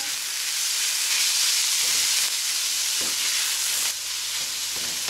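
Ground beef with finely chopped white onion and minced garlic browning in hot oil, giving a steady, close frying hiss throughout with a few faint stirring clicks.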